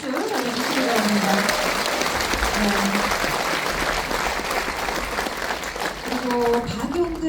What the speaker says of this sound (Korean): 여러분 다시 한번 큰 박수 전해주시기 바랍니다